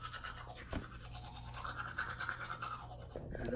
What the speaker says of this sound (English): so I'm gonna go brush my teeth and pee.